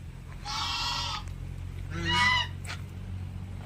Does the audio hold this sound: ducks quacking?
yes